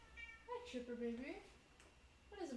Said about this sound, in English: That's my cat, by the way, in the background.